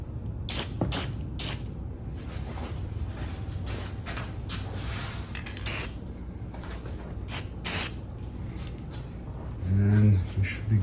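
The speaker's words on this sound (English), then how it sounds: "So I think I might hit this with some clear coat anyway." Short hissing bursts of aerosol clear coat sprayed onto a Canik TP9 pistol, several quick blasts spread through the clip, with someone talking over the spraying.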